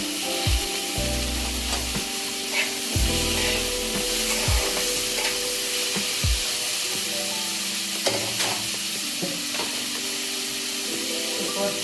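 Tomatoes hit a hot pan for a spicy karola chutney, giving a steady sizzle with scraping stirs and occasional knocks of a spoon against the pan, close and continuous.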